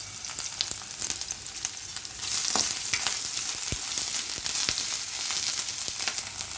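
Cinnamon and cloves sizzle in hot oil with onion, ginger and pepper for masala puri. A close, steady frying hiss swells louder partway through, dotted with small crackles and pops, with no talking.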